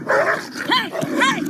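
Two dogs bark and yelp in quick bursts close by, three sharp barks with a rough, growling edge over about a second and a half.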